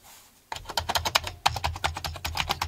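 Keys on a yellowish-cased Commodore 64 computer keyboard are typed in a rapid, steady run of sharp clicks, close and alone after a brief quiet start.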